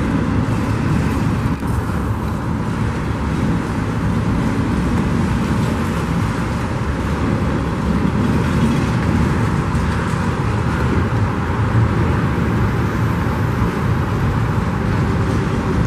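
A long freight train pulled by five engines rolls steadily past, a continuous loud rumble and clatter of cars, including spine cars and 53-foot containers, with no break or change in intensity.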